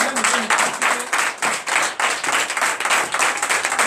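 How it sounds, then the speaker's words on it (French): Sustained audience applause at a Sunday church service in Benin, many hands clapping steadily and loudly for several seconds with no voices over it. "je vous demande d'applaudir très fort"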